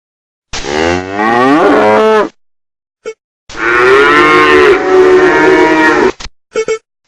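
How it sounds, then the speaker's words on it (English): Farm cattle low in two long, loud, close moos. The first one rises and falls, and the second is drawn out. A few short knocks follow, and no voices are heard. "cow"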